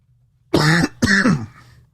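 Two short, harsh throat-clearing coughs in quick succession, close and loud, with a quiet pause between and nothing else around them.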